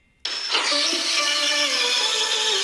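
A background vocal loop in a future bass drop enters abruptly after a brief silence, a bright, sustained, processed vocal texture with gliding pitched lines. Steady and moderately loud, with no speech.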